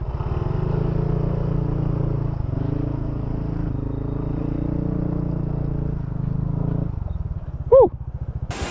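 An adventure motorcycle rides along a remote riverside route in Valderrama, Antique, its engine a steady close drone with slight shifts in pitch, ending in a brief sharp squeal and a pause.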